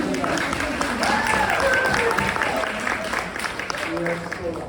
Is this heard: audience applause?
yes